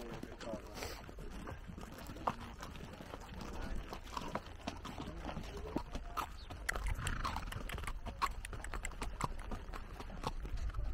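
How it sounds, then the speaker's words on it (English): Horse hooves clip-clop steadily at a slow walk during a ride through autumn countryside in Turkey, close and fairly quiet, with other outdoor noise around and a voice talking over parts of it. "So I wanted to try riding a horse"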